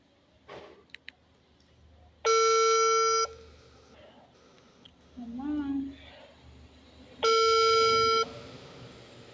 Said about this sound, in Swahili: Nampigia mama wangu simu.